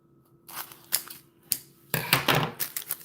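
Scissors cut open a small plastic bag of diamond painting drills up close: a few sharp snips spaced apart, then a quicker cluster of crinkly cuts and rustling plastic.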